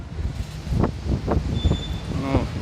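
Strong wind buffets the microphone on a 360-degree rooftop observation deck above Vienna, in gusty low rumbling bursts, while a person talks in between.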